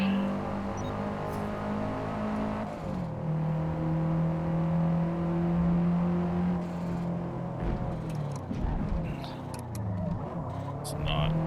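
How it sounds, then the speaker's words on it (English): A race car engine in Forza Motorsport lapping a circuit such as Watkins Glen, Lime Rock or Laguna Seca: a loud, steady harmonic drone that drops in pitch on a downshift, then climbs and blips again as it brakes into a corner. "We can go deeper here with the downshift now"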